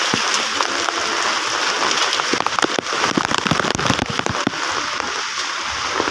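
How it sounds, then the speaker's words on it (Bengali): Torrential stormy rain hammers a waterlogged street in Khulna, a loud continuous wash of hiss broken by sharp cracking splashes and spatters in the middle stretch. "প্রচুর ঝড় বৃষ্টি হচ্ছে, ছাতা ধরে রাখাই আসলে কষ্টকর।"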